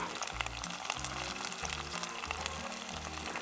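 Garlic frying in hot oil for a fish curry gives a steady, close sizzle throughout, with low thumping bursts at irregular intervals.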